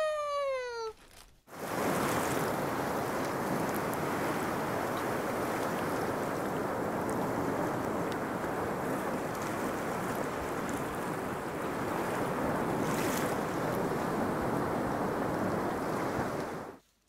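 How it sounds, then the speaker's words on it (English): Sea waves as heard through a held seashell: a steady, broad ocean-like rush that swells in softly after a short tonal chime and holds evenly throughout, close and without voices. "I'll be able to use it to listen to the sea."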